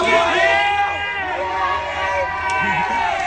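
Hostile crowd shouting and jeering at police officers during an arrest, a dense continuous wall of raised voices and whoops close by, with no single voice standing out.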